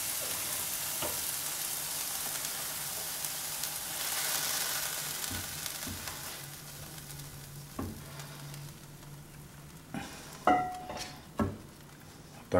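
A freshly fried ingredient sizzles softly as it is added to chashushuli, a Georgian beef and veal stew, with a faint steady hiss and a few sharp utensil clinks near the end.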